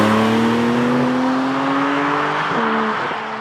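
A Porsche 718 Cayman GTS 4.0 with its naturally aspirated engine revs hard and loud, the pitch climbing steadily before a brief dip and recovery, as though shifting, then easing off.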